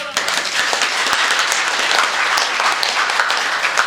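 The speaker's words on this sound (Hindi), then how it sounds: "ऐसे बजती है ताली।" Audience applause at a youth poetry gathering, a steady wash of many hands clapping together at constant loudness from start to finish, with no clear voices.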